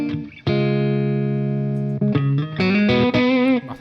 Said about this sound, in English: So this is a kind of, should sound like slightly Fenderish.